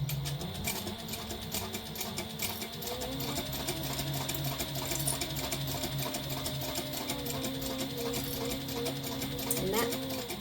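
A sewing machine runs steadily, stitching along the edge of a zipper pouch with a continuous mechanical whir and rhythmic needle clatter, close and alone throughout.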